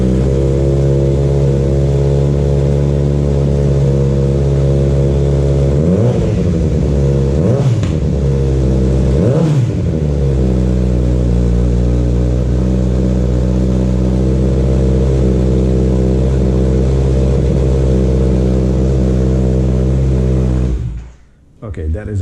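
A Kawasaki Z900 CS motorcycle fitted with an Escapamentos exhaust idles with a loud, steady rumble. It is punctuated by two sharp throttle blips midway, then the engine cuts out near the end.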